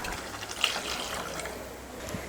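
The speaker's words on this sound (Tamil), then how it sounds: "குழம்புக்கு தேவையான தண்ணி ஊற்றிக்கலாம்" Water poured into a pot of ginger kuzhambu, a Tamil tamarind-style curry, giving a soft, steady splashing trickle at moderate distance with a brief brighter splash near the start.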